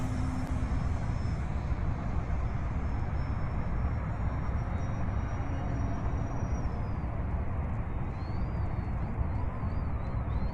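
An E-flite Ultimate 3D RC model airplane flying knife edge on its maiden flight, its electric motor giving a continuous whine with a thin high tone that shifts pitch toward the end, over steady outdoor wind noise.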